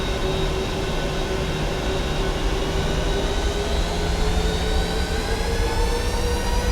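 The jet engines of a KLM airliner departing Manchester for Amsterdam spool up for takeoff in a loud, continuous roar. Whining tones rise steadily throughout, with no talking.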